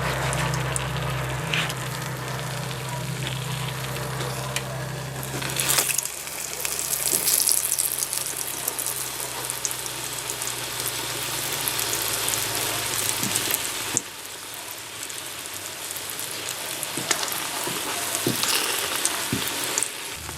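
Apple hand pies fry steadily in a pan of hot oil, a dense, continuous sizzle with a low hum early on and occasional sharper pops and crackles throughout, with no voices.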